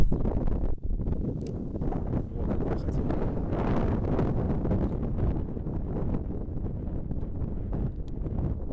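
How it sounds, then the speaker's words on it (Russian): Strong spring wind buffets the microphone on a spinning-rod jig-fishing outing, a loud, continuous rushing roar with gusty swells that fills the whole stretch without letup. "Ветер просто убивает."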